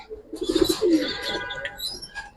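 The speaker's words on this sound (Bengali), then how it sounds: "চারটা বাচ্চা চিচি করে এখনো" Pigeon chicks in a loft giving thin, high chirps and soft cooing calls in a short close burst, with a faint rustle of wings and no speech.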